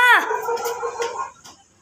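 A dog lets out a single drawn-out, whining bark-howl close by at night outside a house. It tails off into quiet background noise.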